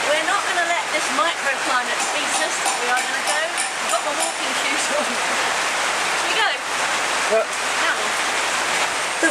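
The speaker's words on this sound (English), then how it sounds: "The rain continues" Steady rain pours outdoors near a waterfall area in Langkawi, a dense, continuous hiss that fills the whole stretch with scattered splashes and drips close by, with faint talk in the background.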